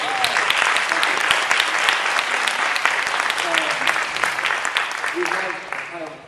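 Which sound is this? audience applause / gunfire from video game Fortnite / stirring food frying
audience applause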